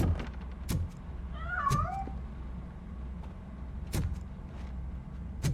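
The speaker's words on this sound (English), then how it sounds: "That cat must be hiding inside." A cat meows in the RoboCop: Rogue City video game, a single wavering cry at mid-distance over low ambient game noise, with a few sharp clicks and thuds around it.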